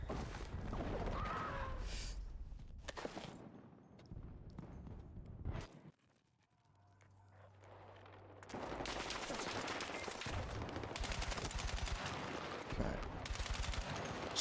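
Shotgun and automatic gunfire in a Battlefield 6 Beta match, loud rapid volleys of shots that drop out briefly into a quiet lull before heavy firing resumes and continues steadily to the end.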